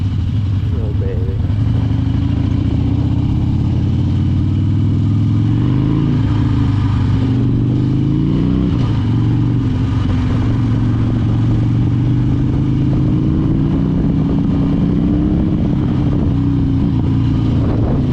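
A Harley-Davidson Dyna motorcycle engine rumbles loud and close, a deep throbbing idle with a few slow blips of the throttle rising and falling, set against an outdoor backdrop as the rider heads out before a snow storm.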